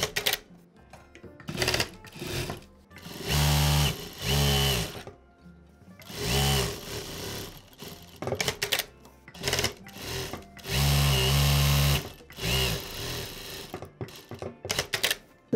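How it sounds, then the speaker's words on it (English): A Juki DDL-900B industrial sewing machine stitches denim handbag straps in several loud, close bursts of rapid needle clatter, separated by short pauses and lighter mechanical clicks. "I'm sewing on my Juki Industrial DDL 900B sewing machine."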